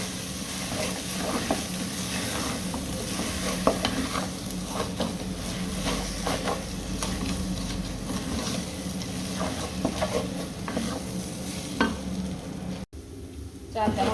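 Ginger, garlic and leaves frying in a pan for pulao with duck, producing a steady crackling sizzle punctuated by soft scraping stir clicks, with a brief drop near the end.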